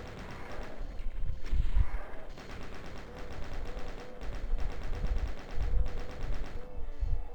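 Rapid bursts of bullet-weapon fire in Doom on the Sunlust MAP07 level, repeated rattling volleys in clusters of shots, fairly close with game effects around them.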